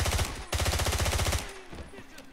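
Rapid automatic gunfire in the video game 007 Blood Stone, a dense loud burst of shots, a brief pause, then another sustained volley before it fades into scattered quieter impacts.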